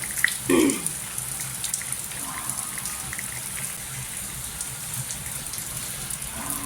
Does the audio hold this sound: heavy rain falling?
yes